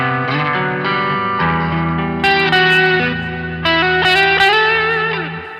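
Electric guitar played through a NUX Amp Academy amp modeler with a mono reverb effect: sustained, slightly driven chords and single notes ring out with smooth reverb tails, loud and steady, no voices.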